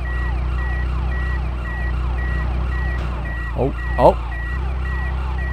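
Police car sirens wail continuously in GTA Chinatown Wars over a low engine drone, their pitch sweeping up and down, with a man's brief exclamations around the fourth and fifth seconds.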